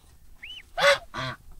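Geese, about six months old, give two loud harsh honks in quick succession, preceded by a faint short squeak.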